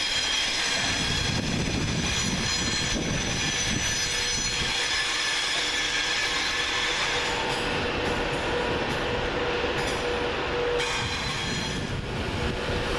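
Virgin Trains West Coast train at Carlisle station, a steady broadband rumble of a train moving through the platform with faint wheel squeal and rail noise throughout, no voices.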